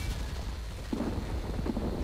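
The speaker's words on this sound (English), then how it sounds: "Alright, there's some explosions." Explosions in the video game Men of War Online give a low rumble with two dull booms partway through, over continuous battle noise.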